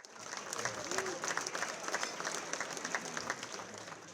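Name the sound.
audience applause for Bill at gala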